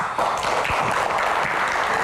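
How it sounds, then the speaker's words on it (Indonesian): An audience applauds a guest arriving on a TV talk-show stage, with steady, fairly loud clapping beginning almost immediately and continuing throughout. "Tepuk tangannya lebih meriah dong"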